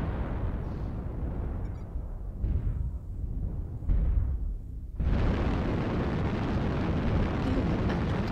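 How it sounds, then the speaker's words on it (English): Artillery strike explosions from a video game thunder in deep, continuous rumbling waves, with booming bursts near 2.5 and 4 seconds before an abrupt, louder broadband blast at 5 seconds that roars on steadily to the end. "Artillery strike online."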